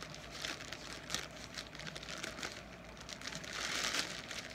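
Packaging around a newly delivered mug rustles and crinkles as it is cut open with scissors. The crackling is faint and continuous, with a few sharper bursts.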